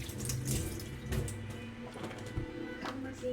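Tap water runs steadily into a sink while hands and arms are washed, a continuous splashing wash with small fluctuations, close and moderately loud.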